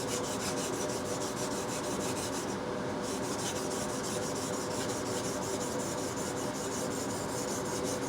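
A steel blade rubbed back and forth on a Norton waterstone, a steady, continuous gritty scraping and rasping that is close and fairly quiet, without speech.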